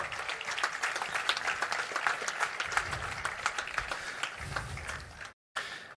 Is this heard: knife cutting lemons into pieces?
no